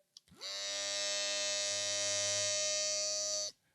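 After a couple of faint clicks, an electric beard trimmer switches on and runs with a steady, even buzz at about 68 decibels for about three seconds, then cuts off.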